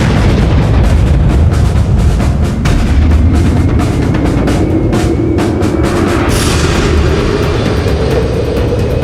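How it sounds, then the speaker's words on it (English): Heavy naval gunfire from the battleship HMS Hood, a dense continuous barrage of deep booms and rumble, loud and close throughout with no talk. "The Hood opens fire."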